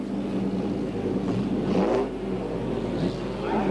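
Mercedes W196 racing car with a 2.6-litre fuel-injected inline six and desmodromic valves, engine droning and revving steadily with a rough, loud mechanical roar that swells midway.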